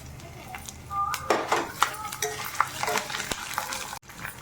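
Chana dal, cashews, mustard seeds and dried chilies tempering in hot oil in a pan, a soft steady sizzle with clinks and scrapes of a spoon against the pan, close by, with a brief dropout near the end.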